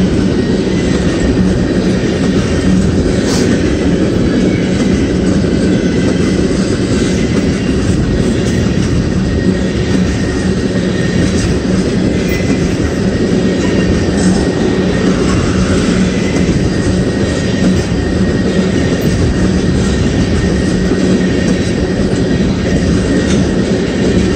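Long BNSF and Canadian Pacific freight train hauling ethanol northbound on track two, a loud steady rumble and rattle of rolling cars passing close by for the whole stretch, with no talk.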